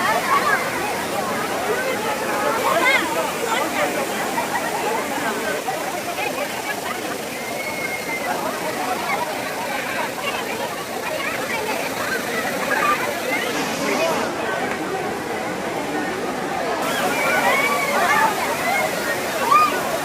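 Waterfall at Kovai Kutralam with bathing tourists, a steady broad rush of falling water mixed with sloshing and distant crowd babble throughout, moderately loud and continuous.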